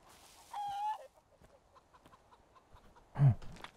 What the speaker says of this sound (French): Ouais, c'est complètement une poule, ça.